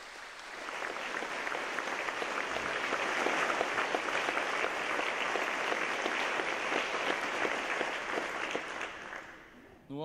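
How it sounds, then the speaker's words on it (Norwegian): Sustained audience applause at the opening concert of a Norwegian national festival, a dense crowd of clapping that rises and holds steady for several seconds before tapering off abruptly near the end. "så de tykker jeg skal få en applaus allerede nå."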